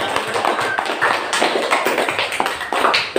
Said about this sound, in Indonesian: Coba anak-anak beri aplaus dulu untuk kelompok 2.